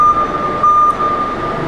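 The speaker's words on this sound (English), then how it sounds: "And here's that backup alarm." The backup alarm on a 2015 Toyota LP-powered cushion-tire forklift sounds a steady high-pitched electronic tone in short repeated bursts, loud and close, over a low idling engine hum.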